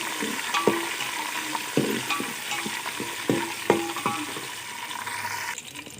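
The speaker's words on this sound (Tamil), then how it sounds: "பச்சை மிளகாய் போட்டோடனே நல்லா பொரிஞ்சு வரும்" Green chillies frying in hot oil in a pan for chicken biryani, a steady close sizzle broken by sharp scraping stirs and clinks of a spoon against the vessel.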